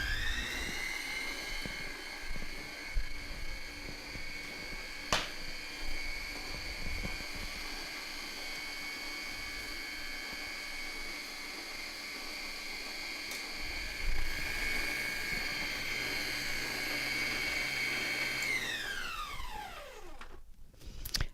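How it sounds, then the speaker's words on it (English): An electric mixer runs steadily on low speed through snickerdoodle cookie dough, giving a sustained motor whine with a few clanks against the bowl before it winds down at the end. "Mix that on low."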